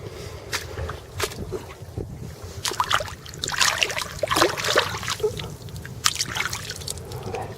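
A fossil washed off in shallow seawater on a pebbly beach, close splashing and swishing of water with trickles and light knocks over wind and surf, no talk.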